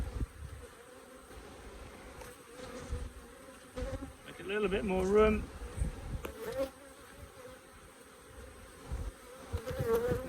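Honey bees buzz around an opened hive during frame work on a colony, a faint, diffuse hum with a louder close pass of one bee; a beekeeper speaks quietly over it.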